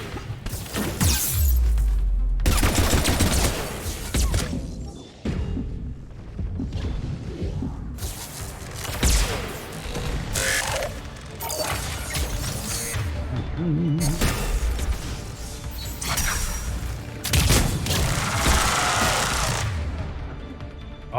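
Sustained automatic gunfire from the sci-fi shooter Mass Effect 3 comes in long, loud bursts separated by brief pauses. Mechanical clatter and whooshes mix in, and no one speaks.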